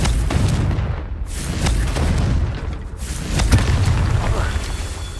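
A Confringo fire spell explodes in Hogwarts Legacy on PS5, a dense booming blast with rumbling low end that swells and recurs across the moment, loud and close, with a voice exclaiming over it.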